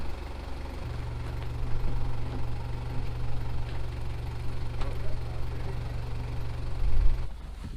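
A 1980s Toyota Supra turbo with a 5-speed manual idles steadily with a low, throbbing rumble and slight knocking, close by, before a brief rise near the end and a quick cut.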